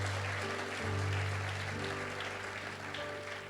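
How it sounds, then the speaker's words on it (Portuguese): A congregation claps continuously, a dense wash of applause from many hands over a low hum. "Aplauda o Senhor com essas mãos."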